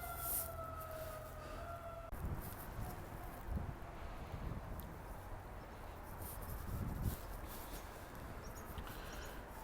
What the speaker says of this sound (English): I'm going to pause for the siren to pass.